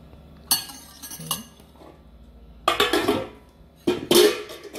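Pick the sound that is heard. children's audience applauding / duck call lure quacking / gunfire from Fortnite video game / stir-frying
stir-frying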